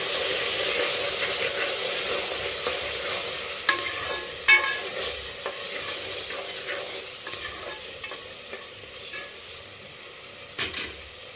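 Chopped tomatoes sizzle steadily in a hot pan for a gentle frying hiss while a utensil stirs them now and then, scraping and clinking against the metal. Close and moderate in level, with no voices.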